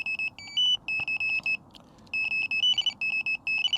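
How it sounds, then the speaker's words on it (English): An Avid Carp VTX+ bite alarm on its highest sensitivity setting gives rapid, loud electronic beeps in quick runs. The tone shifts partway through, and a quiet background hum sits under it. "That is a very sensitive buzzer"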